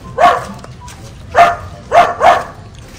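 A dog barks four times, sharp yaps at uneven spacing, fairly close, over a low background hiss.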